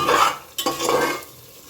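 A lid comes off a pot of simmering ghugni with one brief metallic clack amid a soft, close background of cooking sizzle and stirring.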